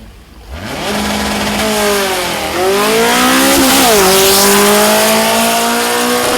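A loud Volkswagen drag race car engine roars and climbs in pitch as it accelerates hard down a dragstrip, gear changes dipping briefly before the whine rises again.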